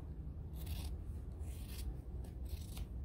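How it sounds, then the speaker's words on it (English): Quiet rhythmic snipping and rasping of scissors working through fabric, several cuts in a row close to the microphone. "I'm just going to cut it with my scissors down the fold."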